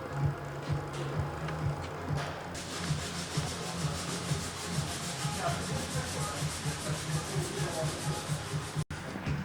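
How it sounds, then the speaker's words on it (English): Body filler being sanded on a rusty Saab under repair, a steady rhythmic rasping scrub that grows brighter and harsher partway through, with a low mechanical hum beneath and a brief cut near the end. "We're already sanding the other side."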